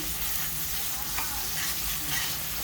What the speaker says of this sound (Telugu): అల్లం వెల్లుల్లి పేస్ట్ అయితే వేగిపోయింది చక్కగా